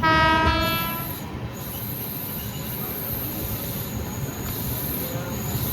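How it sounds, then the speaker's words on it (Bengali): A train with new LHB coaches pulls into Sheoraphuli Junction, opening with a loud horn blast over rumbling wheels and rail noise that continues steadily under a faint squeal. "ট্রেন ঢুকছে শেওড়াফুলি জংশন।"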